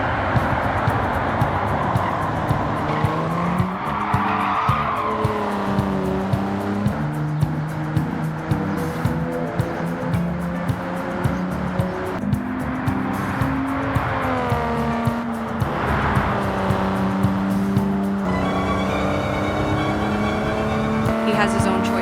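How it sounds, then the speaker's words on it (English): A Nissan Skyline Soft Top 2000GT-R in Gran Turismo 7 laps a test track, its engine note steady and loud as it rises and falls through gear changes, with music playing underneath throughout. "Time to take this car out for a spin around the test track with our famous racing driver behind its wheel."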